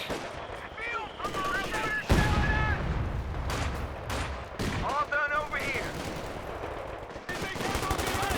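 Machine gun fire in Company of Heroes 2, with a second gun joining in: sustained rattling bursts and scattered gunshots across a busy battlefield, loud and continuous, with game voice lines and effects mixed in.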